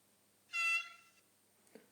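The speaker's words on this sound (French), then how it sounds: "En F5, un coup de klaxon court." Short horn blast from a Loksound model train sound decoder, a single bright tonal honk lasting about half a second, fairly close and clear, followed by a faint click.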